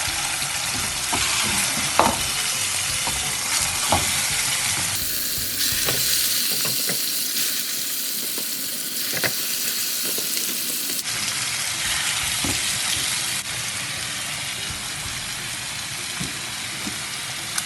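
Chicken breast roasts in a pan with rosemary, crackling and sizzling loudly and continuously, with occasional stirring scrapes and pops throughout.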